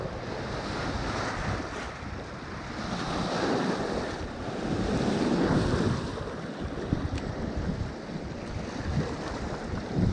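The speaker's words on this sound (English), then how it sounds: "That wind's calmed down a little bit more." Wind gusts roar across Canton Lake in Oklahoma while fishing for walleye from a boat, a constant broadband rush with waves lapping, swelling and easing without pause.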